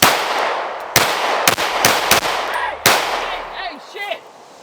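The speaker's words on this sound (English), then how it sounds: "Just let me shoot." Concealed carry pistol fitted with a compensator fires about five sharp, loud gunshots at irregular intervals, each with a short echo, while voices talk briefly near the end.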